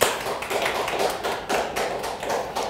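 A church congregation claps together during a Sunday worship service, a steady dense patter of many hands that holds at an even level throughout with no voices over it.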